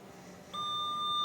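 A quiz game buzzer gives a single sustained electronic beep that starts abruptly partway through and holds steadily to the end, clear and moderately loud.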